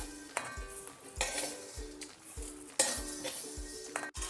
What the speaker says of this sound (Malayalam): ഈ നട്ട്സുകളെല്ലാം ഇതിലേക്ക് കോരിയെടുക്കാം.